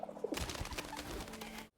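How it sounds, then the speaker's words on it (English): A pigeon from the animated film Spies in Disguise gives a short run of soft coos, close and fairly clear, stopping abruptly just before the end. "has a pet pigeon he names Lovely."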